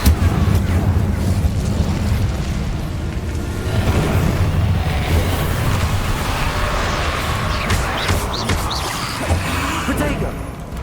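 Fiery bursts and booming blasts from an Incendio fire spell in Hogwarts Legacy combat roll on loudly and continuously, while a voice talks over the action.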